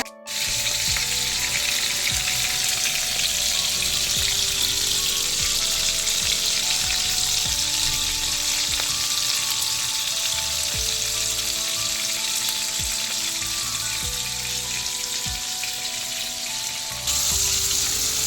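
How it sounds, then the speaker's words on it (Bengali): Giant freshwater prawns (golda chingri) fry in hot oil, a loud, dense and steady sizzle with crackling that runs without a break and no talking. "আমার মাছটা ভাজা হয়ে গেছে, আমি লাল লাল করে ভেজে নিয়েছি"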